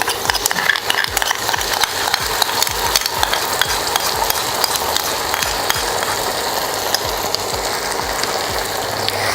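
A utensil scrapes and stirs rhythmically through cabbage Manchurian sauce with tomato ketchup in a pan over a steady sizzle, repeated close-up strokes with no talking.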